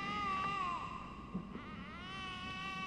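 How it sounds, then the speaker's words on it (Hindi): A baby cries and wails in a horror video game, with drawn-out sobbing whimpers that rise and fall through two breaths, fairly close and clear over a faint ambient background with no speech. "बच्चा रो रहा है, किसका बच्चा है पता नहीं।"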